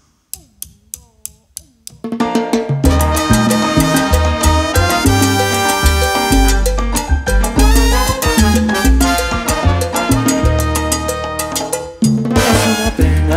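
Salsa song opening with a few sparse plucked notes, then the full band entering loud with brass, percussion and bass in a steady driving rhythm, a brief drop near the end before resuming.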